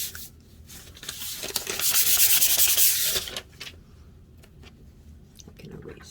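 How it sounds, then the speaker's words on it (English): A wooden piece, its grain raised, is lightly hand-sanded; soft rubbing strokes swell to a louder scratchy burst in the middle, then fade to quieter brushing. "I'm just going to take that and lightly sand over top of the piece"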